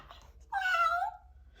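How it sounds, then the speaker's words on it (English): A cat gives one short, clear meow, close and alone in a quiet room. "meows and purrs."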